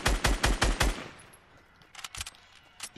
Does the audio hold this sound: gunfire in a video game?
yes